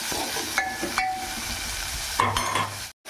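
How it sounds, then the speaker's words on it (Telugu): Chopped tomato, onion and green chilli sizzle loudly in a pan while a spatula stirs and scrapes through them, a steady close frying hiss with a few metallic scrapes, cut off abruptly near the end. "టమాటా ముక్కలు, పచ్చిమిర్చి మొత్తం వేసుకుందాం. బాగా కలుపుకుందాం."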